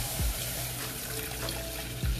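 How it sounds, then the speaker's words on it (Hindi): Milk poured into a cooking pot, a steady close liquid stream running throughout with a low hollow rumble and brief thuds near the start and end, no speech. "सबसे पहले हम देगची में दूध ऐड करेंगे"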